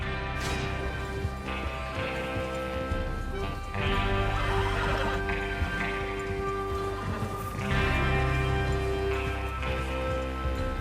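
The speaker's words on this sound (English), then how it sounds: "Get your horses ready." Horses whinny and snort loudly over a sustained musical drone in the video game Red Dead Redemption 2, with several neighs spaced across the stretch and some hoof noise mixed in.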